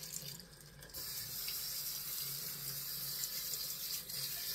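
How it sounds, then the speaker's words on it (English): Water runs steadily from a tap while a badger shaving brush is rinsed under it, a continuous close splashing hiss with a brief dip near the start. "I'm going to rinse this brush out because I want you to see it."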